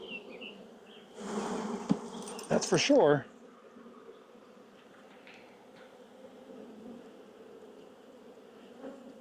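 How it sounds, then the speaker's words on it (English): Honey bees in a busy hive buzz in a loud, dense swarm burst for a couple of seconds as a frame is shaken, then settle into a steady low hum beneath brief talk. "shake these bees down. This is a busy hive."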